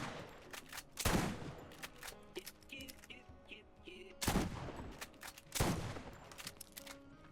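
Gunfire in the video game Borderlands: several sharp, loud shots at irregular intervals ring out over quieter game ambience, each with a brief decaying tail.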